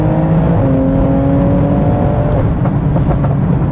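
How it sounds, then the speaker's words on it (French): A Manhart TR 900 tuned car with 945 hp accelerates at full throttle in fourth gear, its engine note loud and close, climbing steadily in pitch with a rising whir, with no talking. "je me mets en 4 et j'accélère à fond"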